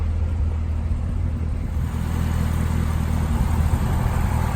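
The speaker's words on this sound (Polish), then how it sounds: "To jest cały motor tej bestii." A 650-horsepower V8 car engine rumbles with a deep, steady low roar, loud and continuous as if heard from inside the moving car, with no talking.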